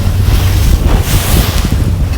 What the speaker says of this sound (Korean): 물 엄청 튀고 있어요